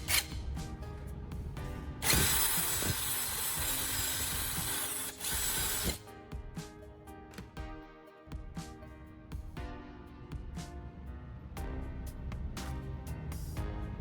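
A power drill widening a hole in a DIY build, a loud steady whine for a few seconds, then shorter bursts and scattered clicks and knocks of handling the workpiece.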